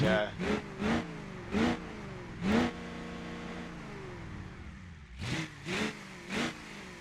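A car engine in the BeamNG.drive driving game revs up and settles in sweeping, rising and falling tones, with a diesel-like character, heard up close. Short bursts of other sound break in between the revs.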